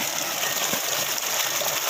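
Water gushing steadily from a pump motor driven by an INVT CHF100A variable frequency drive, a continuous dense splashing hiss at constant loudness with no voices.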